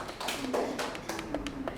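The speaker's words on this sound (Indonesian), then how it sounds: "Boleh beri tepuk tangan sekali lagi untuk Bapak Dharma atas paparan yang sudah disampaikan" An audience claps for a speaker in a quick, fairly light patter of many hands. The applause is steady and moderately close throughout the short burst.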